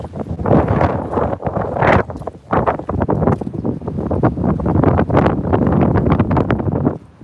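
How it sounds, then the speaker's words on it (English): Strong gusts of wind buffet the microphone on a dog walk near Castle Eden Dean, in loud, continuous rumbling roars that surge and ease throughout. "it's windy"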